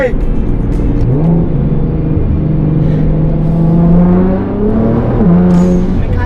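A six-cylinder Nissan GT-R R35 sports car engine hums loud and close, its pitch rising as it revs, easing off briefly, then climbing again, with faint voices underneath.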